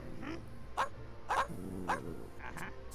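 A dog barks from the room of someone playing a Grinch video game on a PS4. The barks come as four or five sharp yips spread over a few seconds, close and fairly loud, with a low room hum beneath them.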